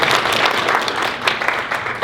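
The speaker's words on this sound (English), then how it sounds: "Round of applause for Kendrick, please." Audience applause at a business leadership talk for cleaning company managers: a dense, steady burst of clapping from a room full of people, loud and close, lasting about two seconds with no talk over it.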